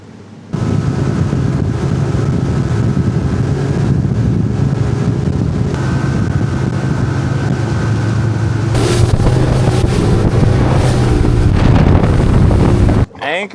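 A motorboat pulls away under a loud, steady engine drone mixed with heavy wind buffeting across the microphone, holding constant for over ten seconds before stopping suddenly.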